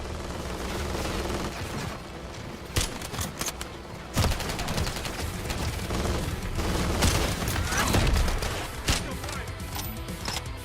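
Video game gunfire from hostile enemies, dense rapid bursts and cracks mixed with heavy mechanical clatter and booms, sustained and loud, with faint voices underneath.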